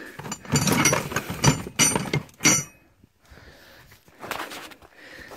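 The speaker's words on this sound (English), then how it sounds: "Let's get my hammer out." A hammer strikes rock in a rapid series of sharp, gritty knocks and cracks, then pauses before a few more hits, close and fairly loud.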